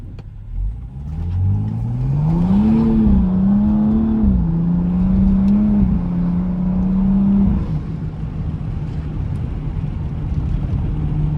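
BMW M235i accelerating through city traffic, its engine revving up in rising, stepped pitch sweeps before settling into a steady cruising drone, then easing off to a lower rumble; close, loud and continuous with no talking.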